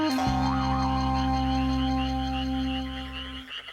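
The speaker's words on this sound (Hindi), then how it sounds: "ये तो मेंढक की आवाज थी।" A single long, deep cartoon croak holds steady for about three seconds, loud and close, then cuts off.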